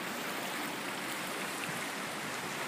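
Swollen river running high during a typhoon near Utsunomiya, Tochigi: a steady, dense rushing roar of water, constant throughout with no breaks and no talking.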